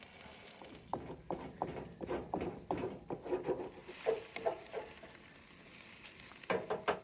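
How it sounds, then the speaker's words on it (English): Onions and mushrooms sauté in a pan at a campsite in Death Valley National Park. A soft frying hiss runs under a quick, uneven run of spatula scrapes and stirs, nearby and fairly quiet. "First thing we're going to do is saute the onions and the mushrooms a little bit"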